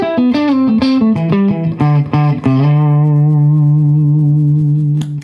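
An electric guitar solo runs through a booster pedal, with a quick run of distorted, reverberant notes settling into one long sustained note that rings out alone, loud and close.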